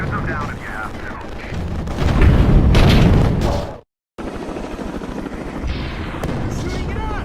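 Military helicopters in the game The Incredible Hulk, rotors thudding under shouted dialogue and booming gunfire or explosions, loudest mid-clip before a brief dropout, then a continuing chopper drone with voices.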